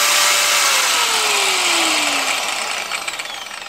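Makita 9555NB 240 V angle grinder, just repaired, runs with a loud, close, high whine whose pitch slides down as it winds, then fades toward the end.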